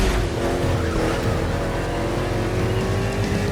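NASCAR race cars roar through an urban street circuit in Honolulu, Hawaii, in the video game The Crew Motorfest, a dense, steady engine drone that stays loud and continuous throughout.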